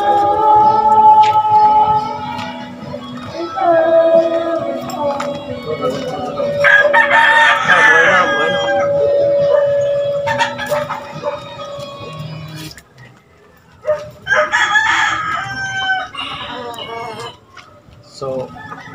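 Several chickens cluck and a rooster crows loudly nearby, with more squawks and crowing mixed with some background noise.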